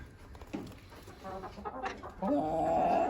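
Brahma chickens clucking close by on a farm among young birds, a few short soft clucks giving way to a louder sustained call near the end, with no talk over them.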